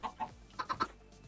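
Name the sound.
chicken clucking in video game StoneBlock 2 Minecraft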